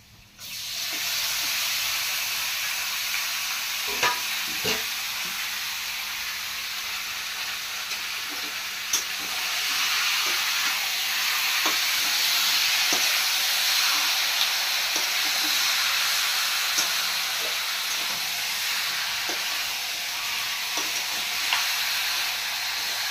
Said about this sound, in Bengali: এখন দিয়ে দেবো ম্যারিনেট করা মাংসটা।